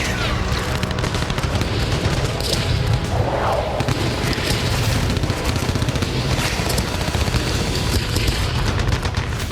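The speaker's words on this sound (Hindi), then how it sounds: "रूसी सैनिक हवा में गोलियां चला रहे हैं" Russian soldiers fire guns into the air beside a military vehicle, a dense run of sharp shots and thuds over steady loud engine rumble and wind, continuous for the whole stretch.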